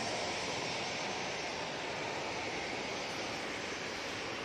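A Jet2 Airbus A321ceo airliner takes off from Manchester Airport, a broad, steady jet roar heard from a distance, even and sustained with no voices.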